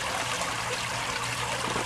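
Water trickles steadily in a small single-family aquaponics fish pond, a soft continuous babble of flowing water at low level with no voices.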